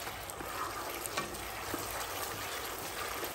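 Fenugreek leaves fry in a pan for Hyderabadi palak gosht, giving a faint, steady sizzle with soft watery crackles and an occasional stirring scrape.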